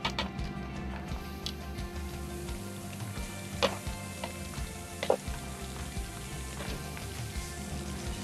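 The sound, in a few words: pork chops searing on the grill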